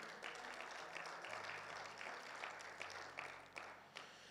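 Congregational applause fills a church service, a dense continuous patter of many hands with a steady low hum and tones underneath, holding fairly constant throughout.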